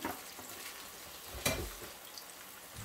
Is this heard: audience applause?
no